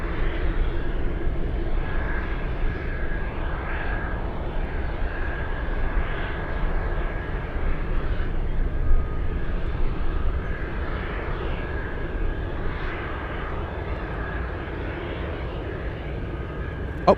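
A King Air turboprop comes in to land at Anchorage airport, its engines a steady, fairly loud drone with a constant tone that swells slightly midway and holds through the whole stretch.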